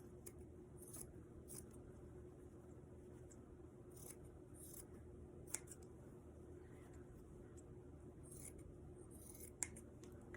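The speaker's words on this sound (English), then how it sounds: "we are going to trim the seam allowance and clip as necessary" Scissors make quiet, intermittent snips while trimming and clipping the fabric seam allowance of a bucket hat, with scattered close cuts over a low steady hum.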